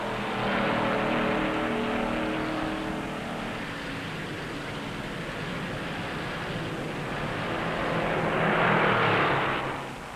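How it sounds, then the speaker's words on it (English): Stock car engines roar at the 1958 Darlington Southern 500 on the high-banked track, a sustained distant drone that rises as cars pass, swelling louder near the end, with no talking. "He stands on the throttle in the high bank groove."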